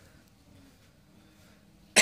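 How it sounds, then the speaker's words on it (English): One sharp, loud cough bursts out near the end after a stretch of near silence in a quiet indoor room. "Sorry, I've got a bit of a cough."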